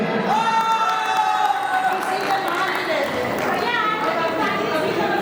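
Crowd at a 2025 alumni reunion meet cheering and clapping loudly and steadily throughout, with lively chatter and voices mixed in.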